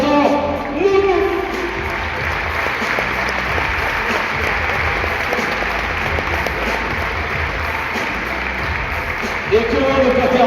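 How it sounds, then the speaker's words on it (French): A crowd applauds steadily at a Pro B basketball game between Vichy Clermont Métropole and Rouen, a dense, sustained clatter of clapping that fills the hall, with a voice heard briefly at the start and again at the end. "Je vous demande d'applaudir Jonathan Loulou."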